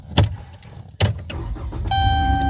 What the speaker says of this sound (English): I'm gonna roll some windows down for him.